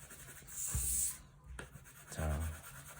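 A pencil shades across paper in short, soft scratchy strokes, a few quiet rubbing passes with pauses between them.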